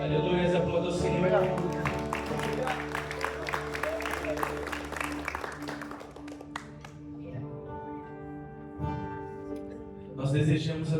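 Church congregation clapping in steady rhythm along with worship music and voices, the claps dense and lively at first, then easing off as the music carries on.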